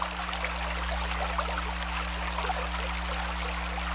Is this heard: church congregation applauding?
no